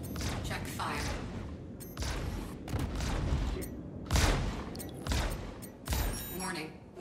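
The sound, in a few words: ship guns firing in video game Star Citizen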